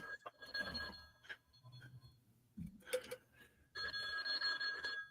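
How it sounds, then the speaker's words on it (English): A phone rings indoors in bursts of electronic trilling, faint and repeated with gaps between rings, alongside a few low background noises. "Phone's ringing."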